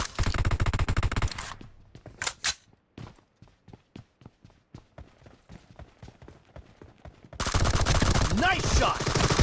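Automatic fire from M416 and SCAR-L rifles in a team deathmatch shooter game: a loud sustained burst, then a quieter stretch of spaced single shots and short bursts, before heavy rapid fire resumes loud and close.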